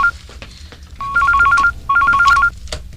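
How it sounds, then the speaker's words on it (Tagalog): A telephone rings in two clear electronic trilling bursts, each about half a second, near and loud, with soft background noise between and no talking. "Telepono."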